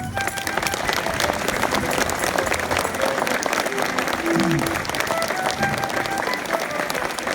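Audience at an archers' company honouring ceremony in Rieux-Volvestre warmly applauds Cathy Loze and Hubert Saucasse, a steady, loud, continuous patter of many clapping hands lasting several seconds.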